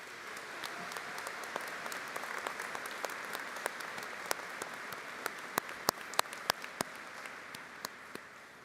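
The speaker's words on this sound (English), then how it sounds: "Let's give him a round of applause." A commencement audience at a university ceremony applauds Lieutenant General Barrier, with sparse scattered claps ringing out sharply over a soft, continuous patter of distant applause.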